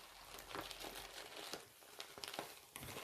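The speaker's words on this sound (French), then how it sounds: "qu'est-ce qu'il y a d'autre dans l'enveloppe, Léo?" Paper envelope being rummaged through, with dense crinkling and rustling of paper for about three seconds, close and steady, no voices.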